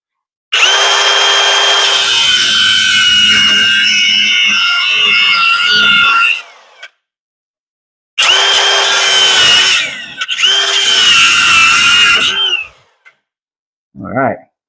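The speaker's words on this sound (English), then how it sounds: "One of my favorite tools in the whole shop. The angle grinder." Angle grinder running in a shop during work on an S10 truck, two long loud grinding runs of several seconds each with a steady high whine and a brief cut-out, then a short voice at the end.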